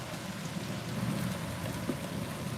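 Heavy pouring rain falls outside as a steady, dense hiss on surfaces, continuous and fairly close, with no voices.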